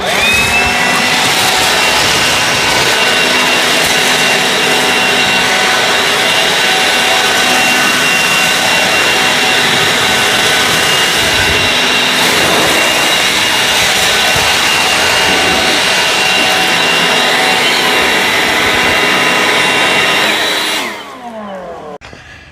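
Battery leaf blowers, an EGO LB7650 and a DEWALT DCBL722B, roar loud and close in a sustained high-pitched whine with airy rushing, holding steady for about twenty seconds before spinning down.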